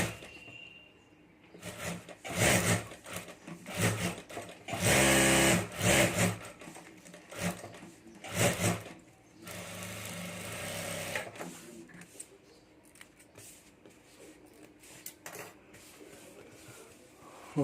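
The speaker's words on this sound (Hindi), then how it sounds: "और अब यहाँ ऊपर हमें सिलाई कर देनी है।" Sewing machine stitching a handmade boho bag, coming in loud whirring bursts of a second or two with short pauses between them, then settling into a quieter, steadier hum toward the end; no talking.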